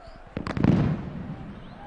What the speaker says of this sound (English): At least the track in between should stop the fans from throwing the fireworks onto the pitch